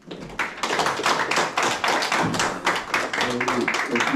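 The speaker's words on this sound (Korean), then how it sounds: "박수 한번 부탁드립니다" An audience at a 2023 Jeonbuk–Jeju academic exchange seminar applauds a provincial council member. Many hands clap briskly and fairly close, holding a steady level throughout.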